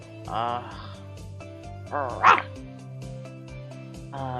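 A collie barks and yips excitedly in the Choices story game, giving a couple of short bursts, with a louder yelp near the middle, over a steady musical background.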